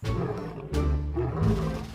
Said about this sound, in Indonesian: Hewan harimau